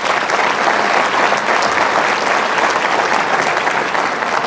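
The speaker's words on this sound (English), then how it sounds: "So let's give all of them a round of applause." Annual meeting audience breaks into a long, full round of applause, many hands clapping steadily and loudly with a few crowd murmurs beneath, no speech over it.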